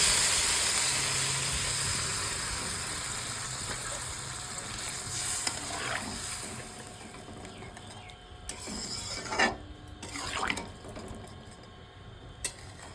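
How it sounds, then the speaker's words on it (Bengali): Water poured into a pan of simmering tomato fish curry made with tangra fish raises a loud steamy hiss that slowly fades, followed by a few sharp clinks and knocks near the end. "এবার এটা কষানো হয়ে গেলে এখানে আমি পরিমাণ মতো জল দিই"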